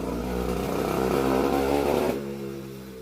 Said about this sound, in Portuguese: Agora tá passando uma moto.